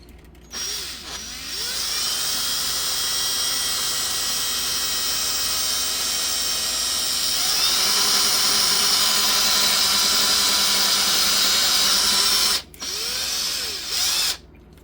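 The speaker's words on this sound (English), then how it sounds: "I'm going to want to drill" Power drill boring a hole through two inches of foam benchwork on a model railway layout, a steady high whine running almost continuously, rising slightly in pitch midway, with brief stops near the start and end.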